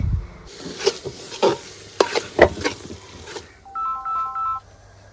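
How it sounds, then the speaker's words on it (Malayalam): Tomato masala being stirred in a pan with a spatula, giving several soft scraping strokes over a faint sizzle, followed by a brief electronic phone-like beeping tone toward the end. "ഉമ്മ ഇളക്കിക്കോ, ഞാൻ വീഡിയോ എടുക്കട്ടെ"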